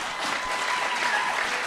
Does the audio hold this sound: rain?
no